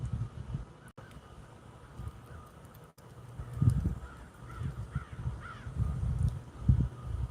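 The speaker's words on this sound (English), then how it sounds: "He's looking away, waiting for the crows." Several crows caw outdoors, with harsh repeated calls rising over rumbling wind noise on the microphone and no talking.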